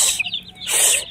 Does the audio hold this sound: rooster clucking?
yes